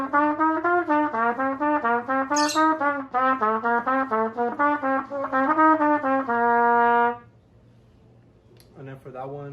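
A trumpet plays a Clark technical study in a mariachi master class, running quick slurred or tongued scale patterns in a steady flowing rhythm, loud and close, ending on a long held note before fading to quiet room noise.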